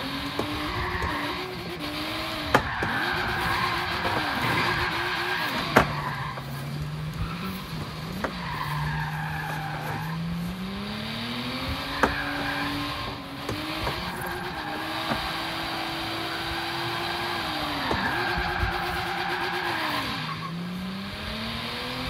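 A 1995 Toyota Supra driven in Forza Horizon 3, its engine revving up and dropping through gear shifts over and over, with tire squeal and occasional sharp clicks, steady and moderately loud without talking.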